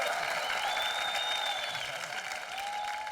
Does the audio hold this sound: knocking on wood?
no